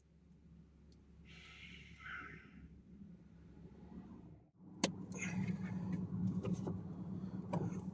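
Road traffic passing close outside a parked van at night, a steady low rumble of heavy vehicles that swells and fades, with a sharp knock partway through and no talking.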